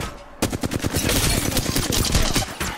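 Rapid automatic gunfire in Apex Legends, a loud, dense burst of close shots that cuts in suddenly and keeps rattling for a couple of seconds.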